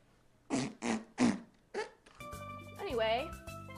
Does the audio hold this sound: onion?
no